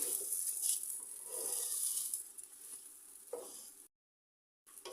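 About a kilogram of rice is fried in a pot for beef kacchi biryani, giving a close, steady sizzle with light crackling and stirring patter that stops briefly before resuming.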